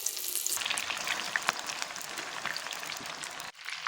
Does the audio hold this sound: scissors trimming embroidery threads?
no